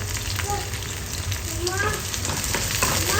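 Garlic, ginger and green chili sautéing in a pan, a dense close sizzle with spoon-stirring scrapes, faint talk in the background.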